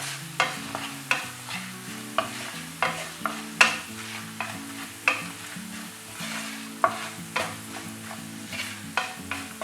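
Spice tempering with Kashmiri chili powder sizzles in hot oil while a spoon stirs, giving regular scraping strokes about every half second over a soft frying hiss, with steady musical tones beneath.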